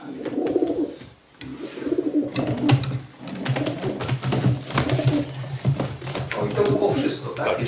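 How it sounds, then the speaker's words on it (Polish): A racing pigeon coos with repeated low throaty calls close by, while someone talks over it almost the whole time. "Nerwowy gołąb."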